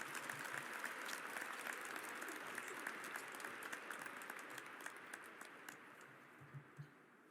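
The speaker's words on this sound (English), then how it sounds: "Join me in a round of applause" Audience applause at a high school graduation ceremony, steady dense clapping from a large crowd that continues evenly and tapers slightly toward the end, with no talking over it.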